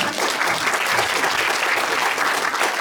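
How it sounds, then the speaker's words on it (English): Round of applause at an education forum held by the Educational Disadvantage Centre, dense and steady clapping from a full room that stays loud and even from start to finish. "Yeah, round of applause."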